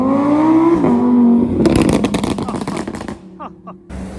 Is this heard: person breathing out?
no